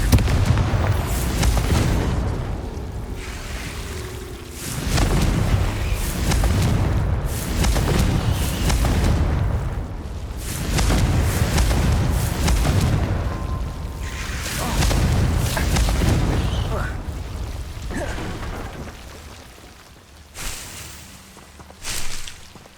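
Confringo blasting spell detonating in Hogwarts Legacy, heavy rumbling booms with a long roaring, crackling tail that keeps swelling and fading over many seconds, loud and close, ending with a couple of softer thumps.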